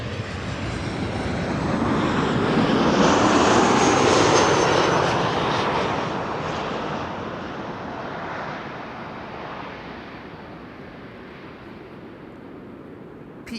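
A business jet at Amsterdam Schiphol roars past fairly close, its engine noise building to a peak and then slowly fading into a broad whoosh, with no voices.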